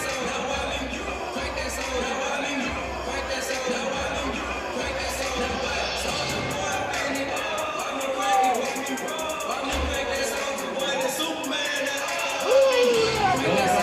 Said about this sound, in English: Good crowd tonight.